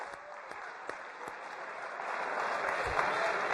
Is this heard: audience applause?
yes